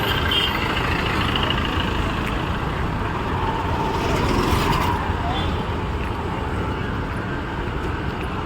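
Auto rickshaw engine idling in Mysore traffic, a close, constant low rumbling chug with surrounding street noise throughout and faint voices mixed in.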